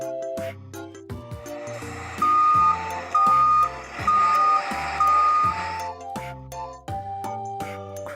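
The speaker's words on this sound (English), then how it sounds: "Blue truck." A blue truck's reversing beeps sound as a regular series of four or five loud electronic pips over a rumbling engine, set against cheerful children's music.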